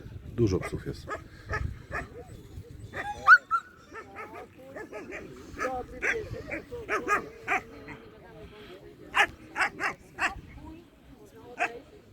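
Several dogs at a purebred dog show bark, yip and whimper in sharp, repeated bursts, some close and some farther off, while people talk in the background.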